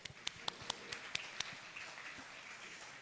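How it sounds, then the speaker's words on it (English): A small audience at a food summit gives a brief round of applause: a few distinct, spaced claps ring out first, then fade into a soft, thin patter. "So I'm going to give him a round of applause."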